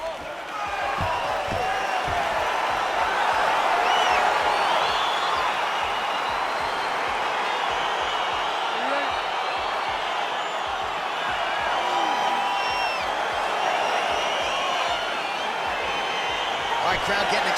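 An arena crowd in the UFC 4 video game cheers continuously at the start of a fight, a dense, steady roar that runs throughout with bursts of whoops.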